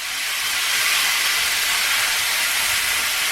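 Lean 85/15 ground beef, with no oil added, sizzles and browns in a pan preheated on high, giving a steady, loud, close hiss that holds without a break and has no talking over it.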